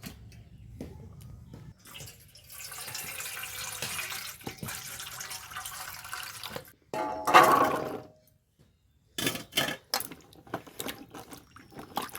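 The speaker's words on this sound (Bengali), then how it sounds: "প্রথমে আমি আমলকিটা একটু ভালো করে ধুয়ে নেব।" Amla (Indian gooseberries) are washed in water, with splashing and rubbing in a basin, a brief louder slosh, and running tap water that starts and stops in short bursts.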